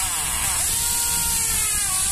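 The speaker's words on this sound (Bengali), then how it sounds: "এটাকে ফুটো করে নেওয়া হচ্ছে," A power drill bores a hole through a motorcycle number plate, giving a short, loud, continuous high whine that shifts pitch briefly partway through.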